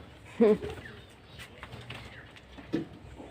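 Pigeons cooing in a pigeon loft, soft low coos heard faintly, with a couple of louder bursts near the start and later, amid quiet rustling and a little nearby talk.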